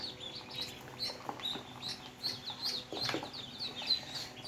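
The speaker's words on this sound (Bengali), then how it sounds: "আরও 60টা বাচ্চা আনছি হাঁসের। পিকিং স্টার আনছি 30টা, আর হচ্ছে আপনার দেশি হাঁসের বাচ্চা আনছি 30টা।" Sixty newly brought duckling chicks, thirty Pekin and thirty native ducks, peeping in a busy chorus of high, repeated chirps that rise and fall continuously, close by with no talking.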